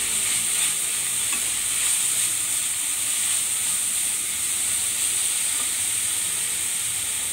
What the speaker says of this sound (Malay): Setelah wortel layu, kita masukin bawang daunnya. Kita tumis sebentar